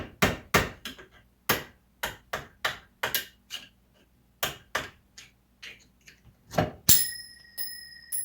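Hammer tapping steel axle retaining rings on a Ram 3500 front axle, a series of sharp metallic strikes in uneven bursts, fairly close with ringing decay and a few lighter clinks at the end.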